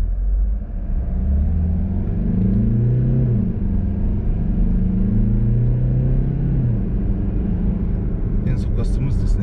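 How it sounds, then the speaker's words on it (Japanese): Mazda CX-30 engine in manual mode with paddle shifts, rising and falling tones as revs climb and drop between gears, heard from inside the car under a person talking. "エンジン音の変化で変速を感じ取っていただければと思います"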